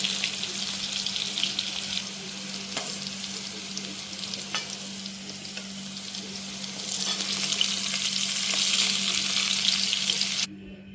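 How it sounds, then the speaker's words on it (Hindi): Food fries in hot oil until golden brown, a loud continuous close sizzle and bubbling crackle with occasional stirring taps, growing busier toward the end before cutting off, no speech. "ये देखिए अब अच्छे से ये फ्राई हो गया है, गोल्डन ब्राउन कलर का चला आया है"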